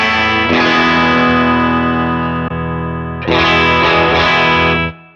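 An electric guitar plays through a REVV D25 amp capture into a V30 speaker, giving loud, distorted sustained chords. One chord rings, cuts briefly, then a fresh strum follows and decays at the end.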